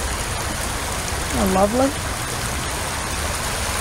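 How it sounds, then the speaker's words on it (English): A stream runs over rocks on its way toward the Potomac River, a steady, broad rushing and trickling throughout, with someone speaking briefly over it. "I love the sound of the running water here."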